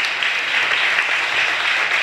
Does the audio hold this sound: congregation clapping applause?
yes